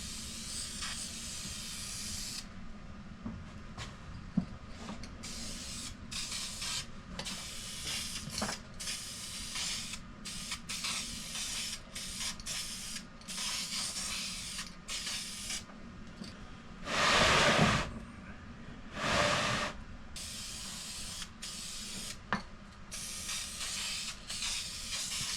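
Spray gun applying a coat onto race car sheet metal, a steady hiss broken into bursts with short pauses and two louder, stronger blasts, heard close up without talk.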